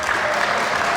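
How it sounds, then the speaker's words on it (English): A crowd claps at a community family game night, a full burst of steady applause filling the room at close range. "Give them a round of applause."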